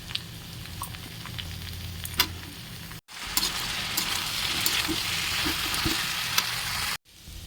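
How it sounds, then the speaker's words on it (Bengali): Cauliflower and potatoes sizzle in an oiled kadai with cumin, dried chilli, onion and ginger-garlic paste. A continuous close frying hiss carries occasional stirring clatters and brief gaps. "ফুলকপি আর আলুটা ভালোভাবে ভাজা ভাজা হয়ে গেলে"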